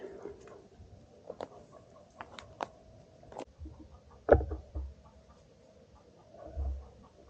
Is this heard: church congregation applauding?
no